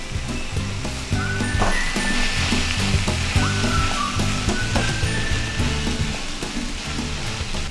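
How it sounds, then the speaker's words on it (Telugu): Tomatoes and a cup of mint leaves fry together in a pan for a chutney, giving a loud, continuous sizzle close by, with scraping and stirring clatter on top and no voices. "కొంచెం పుదీనా వేగే వరకు వేయించుకోవాలి."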